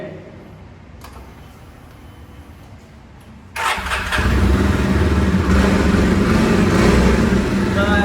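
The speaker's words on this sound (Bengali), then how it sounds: "বাইকের সুন্দর সাউন্ড" A Jawa motorcycle engine cranks and catches at a showroom in Kumarghat, jumping from quiet background to a loud, steady close-up idle rumble that runs to the end.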